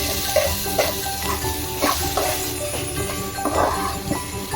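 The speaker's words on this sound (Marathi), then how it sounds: "आणि हे मसाले आपण जोपर्यंत एकजीव होत नाही ना तोपर्यंत त्याला आपण व्यवस्थित फ्राय करून घेऊया" Spice masala for chicken sukka fries in a pan, a steady sizzle broken by repeated stirring scrapes and light clinks, close and fairly loud.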